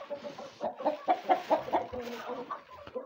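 Hens cluck close by in a rhythmic series of calls while eggs are gathered from them during winter, with some muffled movement around them.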